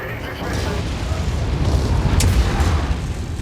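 Anti-missile system firing at an incoming attack on a mech in a MechWarrior video game, a loud sustained rumbling roar with booming bursts swelling toward the end.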